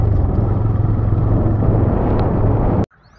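A TVS Raider motorcycle with a gear-shifting sensor problem rides along in first gear, its engine a steady, loud, close rumble that cuts off abruptly near the end.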